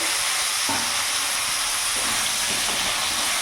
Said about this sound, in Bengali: ফোড়নটা ভাজা হয়ে গেছে, এরই মধ্যে সেদ্ধ করা খাম আলুটা আমি পুরোটা দিয়ে দেবো।